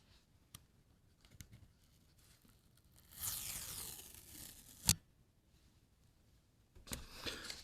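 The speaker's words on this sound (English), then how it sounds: "Let's peel off this sticker together." A sticker peels off the packaging of a DJI Mic 2 box in one loud, close ripping sweep lasting about a second and a half, with a sharp tap afterward and scattered light handling clicks around it.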